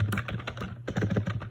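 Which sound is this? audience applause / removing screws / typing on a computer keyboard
typing on a computer keyboard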